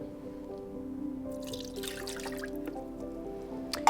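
Pomegranate juice poured into a smoothie in a kitchen, a soft steady trickle and drip of liquid running for several seconds, close and fairly quiet, with no talking.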